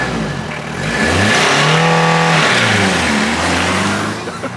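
A JDM project car launches hard from close by, its engine revving up loud and steady through a rising sweep that holds for a few seconds before easing off, with no talk over it.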